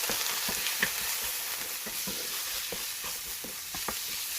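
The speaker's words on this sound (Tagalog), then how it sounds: "And it's time for me to saute the sliced chicken" Sliced chicken sautéing in a pan with garlic, a steady close sizzle broken by regular scraping stirs, with no voices.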